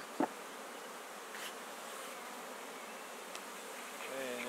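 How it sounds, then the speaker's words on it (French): Honeybees and drones at a hive buzz in a soft, steady hum, with individual bees droning past close to the microphone now and then, faint and continuous. "Il y a un mâle d'abeille."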